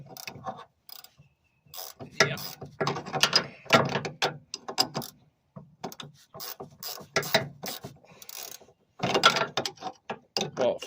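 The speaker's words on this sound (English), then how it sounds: "the nut's going on and it's pretty stiff" A ratchet wrench clicks in uneven bursts while a stiff nut is tightened on a suspension bushing of an 86 Nissan 300ZX, close and fairly loud, with short pauses between runs of pawl clicks.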